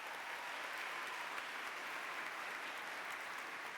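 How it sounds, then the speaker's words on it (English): An audience at a science and technology exhibition opening ceremony claps in a steady, even round of applause, fairly faint and distant, with no voices over it. "So give yourselves a round of applause for that."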